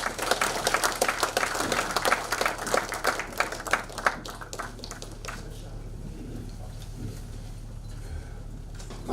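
Lawmakers clap as Liberty Korea Party leader Hong Joon-pyo enters a party legislators' workshop, brisk applause that thins out and fades to scattered claps by the end.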